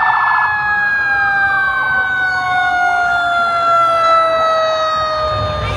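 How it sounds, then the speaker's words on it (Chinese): A fire engine siren wails during an Independence Day parade, its rising and falling tones sweeping loud and close over street background noise. "这是消防车的游行"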